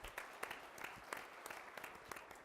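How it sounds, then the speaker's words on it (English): Applause from the audience at a government travel industry panel, a dense, even patter of many hands clapping, fairly faint and distant, lasting the whole moment. "Please, a round of applause for Erika."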